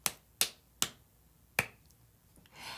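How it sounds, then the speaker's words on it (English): Four sharp, separate hand claps come in an uneven rhythm, close and crisp, each ending quickly, with a soft rustle just after. "And they would clap it without saying the rhythm names."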